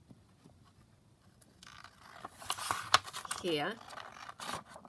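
Scissors snip through paper while folding long-flap envelopes, a few crisp cuts and rustles building in the second half, fairly close, with a brief spoken word.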